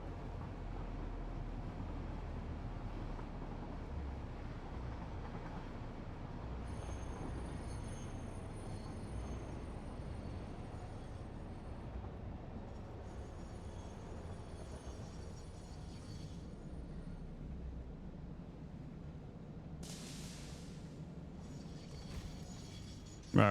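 A train runs in the factory-building video game Satisfactory (Update 8), giving a steady, continuous low mechanical rumble with faint higher hiss on top, sustained throughout with no talking.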